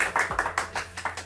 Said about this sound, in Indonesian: Tepuk tangan lu dong.